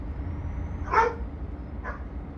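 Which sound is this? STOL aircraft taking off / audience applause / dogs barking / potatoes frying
dogs barking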